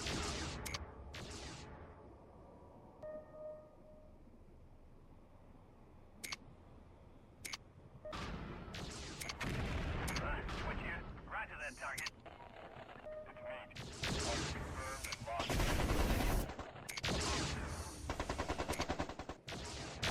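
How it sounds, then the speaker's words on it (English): Turret fire in the MechCommander 2 strategy game, scattered sharp shots and bursts of rapid gunfire with explosive thumps, growing denser and louder toward the end, mixed with game effects. "you can avoid the SRM turret fire"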